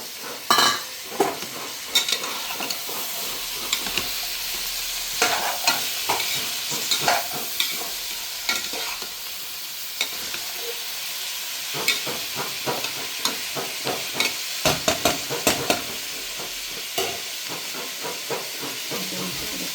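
Potato, carrot, beans and peas fry in a pan for pullav, giving a steady close sizzle and hiss broken by frequent sharp stirring scrapes and clatters, with no talking.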